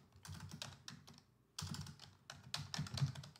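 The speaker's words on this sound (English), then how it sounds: "I'm going to type in Emma Johnson" Fingers typing on a computer keyboard, close and quiet: two quick bursts of light key clicks separated by a short pause.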